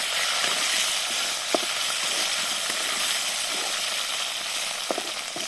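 Potatoes frying in hot oil on a clay stove give a steady, close sizzling hiss with a few soft pops and clinks scattered through it, and no one speaks.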